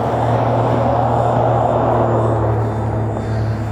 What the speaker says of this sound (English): How's it sound when the car's passing?